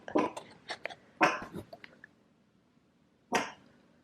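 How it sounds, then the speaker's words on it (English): A small dog giving a few short, sharp barks close by in a quiet indoor room, three bursts in quick succession and then one more after a pause. "She was sitting on my chair looking at that cubby hole and barking."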